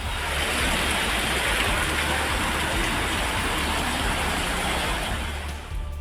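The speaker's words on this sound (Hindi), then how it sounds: "लगातार बारिश से पूरे शहर में बाढ़ जैसे हालात हो गए।" Heavy rain pours down during flooding in a Madhya Pradesh town, a dense, steady roar of water with a low rumble underneath, loud and continuous throughout.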